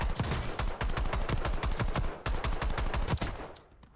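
Rapid gunfire in Call of Duty Warzone, a dense burst of loud close shots fired in quick succession, with a brief break before a second volley that trails off, no voices.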